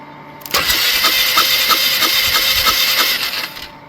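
A Polaris 500 engine turns over on its starter in one loud, continuous grinding crank of about three seconds, with a rapid rhythmic chug that does not catch.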